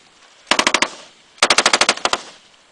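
Rapid bursts of gunfire at a shooting range: a quick string of about six sharp shots, a pause, then a longer burst of around eight shots, loud and close, with no talk.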